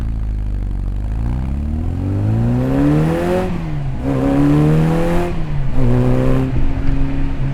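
1965 Austin Mini Cooper S engine accelerating hard from inside the car, revs climbing through several gear changes with a buzzy rising whine, close and loud.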